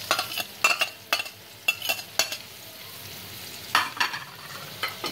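Cabbage and capsicum stir-fry in oil in a wok: a quiet background sizzle under repeated brisk spatula strokes and clatters that come in uneven bursts, loud and close.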